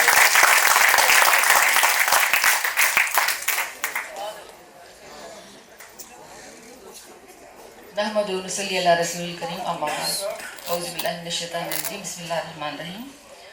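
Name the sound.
audience applause at a mushaira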